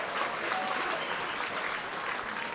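A home crowd applauds a yellow card at a football match, Newcastle Jets against Western Sydney Wanderers. Dense, steady clapping and cheering fills the stand, fairly distant and sustained throughout, with no voices standing out.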